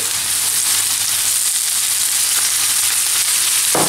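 Scallops and garlic sizzle loudly in a hot pan, a constant bright frying hiss close up with a brief stir near the end, no voices.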